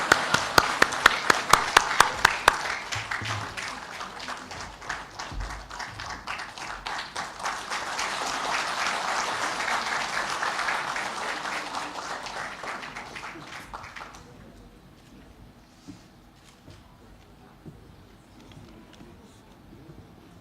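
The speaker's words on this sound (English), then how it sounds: "one round of applause" Audience applause at a book launch programme, dense sustained clapping filling the room for about fourteen seconds before abruptly dying away into quiet room tone.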